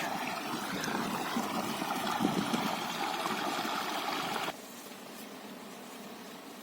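Irrigation water flows steadily into a farm field through an opening in the channel, a continuous broadband rush that drops abruptly to a softer trickle near the end.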